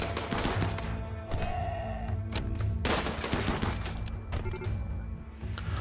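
Rimworld battle gunfire, a few sharp shots cracking out at irregular intervals over a steady game background, loud and close.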